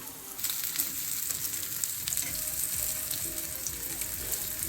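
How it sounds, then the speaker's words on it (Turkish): Steady crackling sizzle of food frying in a pan, with occasional pops and faint stirring, no talking. "O zaman biz bunları kızartalım sonra devam ederiz."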